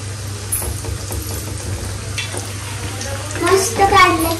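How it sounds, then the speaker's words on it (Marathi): Taro leaf rolls (alu vadi) being fried in oil, a continuous close sizzle with light stirring scrapes that grows louder and more bubbly toward the end, with low background hum. "इथं मी फ्राय करते"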